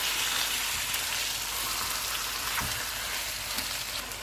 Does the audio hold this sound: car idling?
no